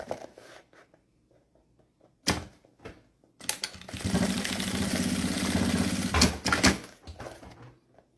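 A sewing machine runs a seam on a small fabric makeup pouch, a long steady whirring burst of several seconds preceded and followed by short clicks and handling noises, with no talk.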